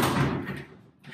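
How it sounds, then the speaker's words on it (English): A door in an old Italian farmhouse under renovation swings open, a short, loud, close thud that quickly fades. "The doors have opened."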